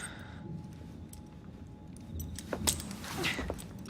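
Keys jangling in the video game Assassin's Creed Syndicate, a few bright metallic clinks and rattles toward the end, fairly close, over a low background.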